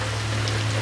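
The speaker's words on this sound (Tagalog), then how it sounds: "Ayan po ang aking mga halaman, inuulan." Steady rain falls on potted garden plants, a continuous soft hiss close by with no talking.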